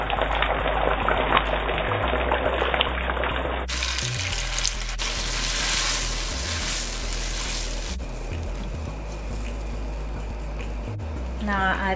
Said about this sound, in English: I'm gonna add the tomato juice.